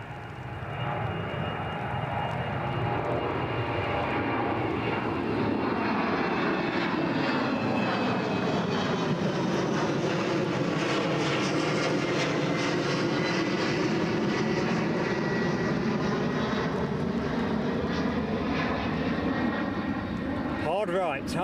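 A fixed-wing airliner performing a go-around, its engines roaring loud and sustained as power builds and the pitch sweeps slowly, with the noise filling the whole stretch.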